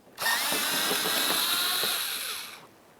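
A power tool spins out 7mm bolts from the front bumper cover of a 2006-2012 Ford Fusion, giving one steady high whine of about two seconds, close and loud, that starts and stops abruptly.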